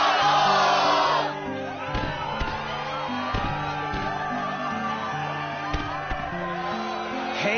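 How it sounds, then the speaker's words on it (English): Loud crowd cheering and whooping in a Kingdom Hearts arena tournament, bursting at the start then settling into a steady roar of shouts under a background music track. "Yes, the crowd is fired up, so you know what comes next."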